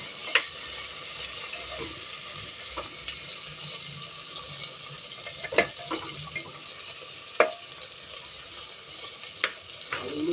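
Potatoes frying in a pan produce a continuous soft sizzle, broken by scattered sharp clinks and scrapes of a spoon stirring against the pan.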